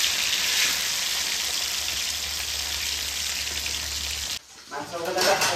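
Kala bainshi fish frying in hot oil, a steady close crackling sizzle that cuts off abruptly near the end, followed by brief clatter.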